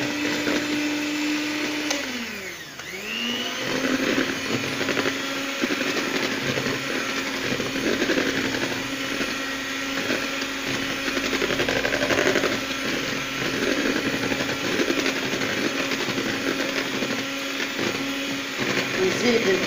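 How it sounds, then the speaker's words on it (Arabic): An electric mixer blends batter with flour and baking powder for a simple mouskoutchou sponge cake, its motor whirring loudly and continuously with a brief dip in speed near the start. "دوك نبدأ نخلط."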